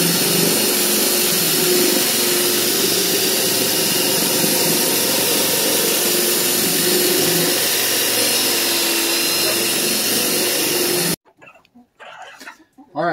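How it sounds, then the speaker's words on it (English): A power drill bores a hole in a 55-gallon plastic water barrel, a loud, steady whir that runs unbroken for about eleven seconds, then cuts out abruptly before brief speech. "so I got the hole drilled"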